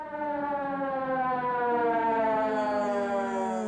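An ambulance siren wails in a loud, steady sustained tone with a slowly shifting pitch, close by and alone without talk, from an old film.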